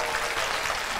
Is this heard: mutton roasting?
no